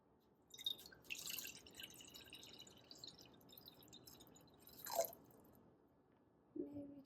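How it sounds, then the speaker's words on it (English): Room temperature water poured into a self-watering pot for an African violet, heard as faint scattered drips and soft splashes in a quiet room, a few brief bursts rather than a steady stream. "I'm going to pour the water like slightly below that line"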